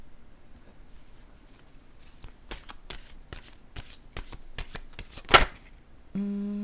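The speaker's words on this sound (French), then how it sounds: "Je vais prendre une carte de mon jeu" A deck of oracle cards being shuffled close by, a rapid run of crisp riffling snaps that builds to a loud flurry, then a sustained tonal hum at the end.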